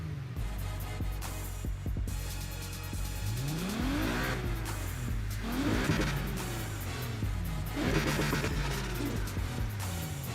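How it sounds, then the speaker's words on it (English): A Ferrari LaFerrari engine in Need for Speed Heat revs repeatedly, pitch climbing and falling in several surging waves, loud and close, with a low idle rumble between pushes. "I'm gonna turn it on so you guys can actually hear how the car sounds"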